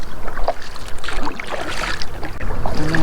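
Kayak paddling on the Tennessee River, rhythmic paddle strokes splashing and dripping close by over a steady wash of water and light wind noise, with no voices.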